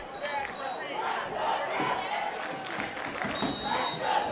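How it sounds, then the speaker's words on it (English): A crowd at a high school football game roars and chants in the distance, a rising and falling swell of voices that never quite falls quiet. "Now the crowd getting into it again."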